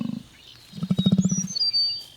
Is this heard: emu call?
yes